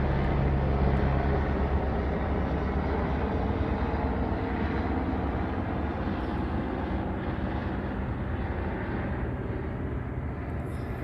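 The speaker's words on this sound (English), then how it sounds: "That's the Ontario Police Department flying over, and the helicopter activity starting right here where I'm at." A police helicopter from the Ontario Police Department passes overhead at night, a loud, steady low rumble and whir that fills the whole stretch and fades slightly toward the end, with no talk.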